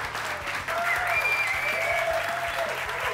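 Audience applause for a band at a gospel singing contest, a dense sustained clapping crowd, loud and steady throughout, with a faint high tone running underneath.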